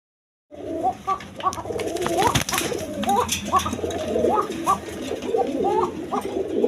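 A pair of pigeons, Arabian and local breeds kept on a farm, coo repeatedly in a steady flurry of overlapping low calls, fairly close and continuous, with a faint murmur of other birds and background noise.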